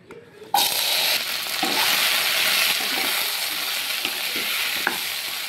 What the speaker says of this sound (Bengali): ভেন্ডিগুলোকে আমি হালকা করে ভেজে নেব